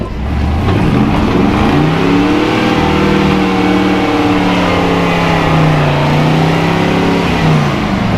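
A loud 1962 Chevy pickup engine revs high and holds, pitch rising and falling in long sweeps as the throttle varies, close and continuous.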